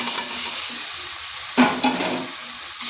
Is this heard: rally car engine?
no